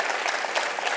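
Audience clapping steadily as a speaker walks onto the stage at a live parenting talk, a dense, even roar of many hands filling the whole moment without voices.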